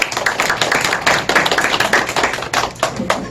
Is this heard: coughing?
no